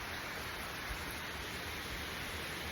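Heavy rain pours down in a windy thunderstorm with lightning, trees blowing, a steady dense roar of broadband hiss holding constant level throughout with no breaks.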